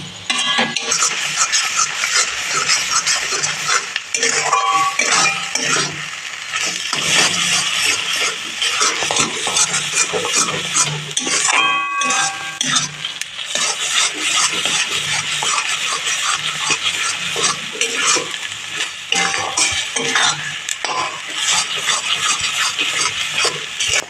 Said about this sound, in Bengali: এবার এই পুরটাকে ভালো করে মশলার সাথে মিশিয়ে রান্না করে নেব, কষিয়ে নেবো একটু।